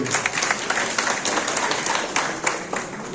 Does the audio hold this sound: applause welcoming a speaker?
yes